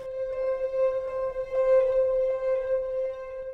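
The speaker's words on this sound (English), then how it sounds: "So you can hear this sound has sort of a string type quality to it." Sustained synth patch from the POSTHUMAN Kontakt instrument with a string-like tone, a steady held note with rich even overtones and a slight wavering swell, playing alone without talk.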